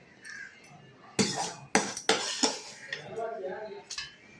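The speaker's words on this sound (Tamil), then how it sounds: "இப்போ இது எல்லாத்தையும் ஒன்றா சேர்ந்து கலந்துடலாங்க" A spoon clinks and scrapes against a bowl while mixing curd rice with tempered curd and pomegranate seeds, in several sharp, close strikes with softer scraping between them.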